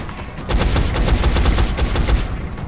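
Suppressing gunfire in XCOM: Enemy Unknown, a loud, sustained burst of rapid automatic shots that rattles along for about two seconds over a deep rumbling bed.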